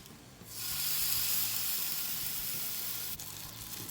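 A peppercorn-crusted beef tenderloin roast browns in a hot pan, setting off a sudden, bright sizzle that swells quickly and then holds steady and close. Near the end a brief crackle breaks in, and no one speaks.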